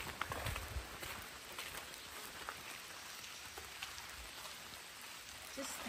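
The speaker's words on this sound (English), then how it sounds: "It's starting to rain harder, Jen." Steady rain falls outdoors near a waterfall at Pewit's Nest in Wisconsin, a dense continuous hiss with scattered drops and patters throughout, people audible faintly in the background.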